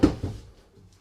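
Large front storage drawer in a 2026 Forest River Puma Tracks 3300FLBS toy hauler RV opening or closing, a short solid thud followed by a second softer knock, close and brief.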